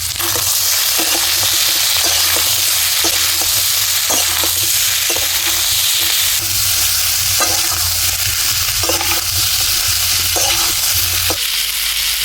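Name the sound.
kundru (ivy gourd) frying with spices in a pan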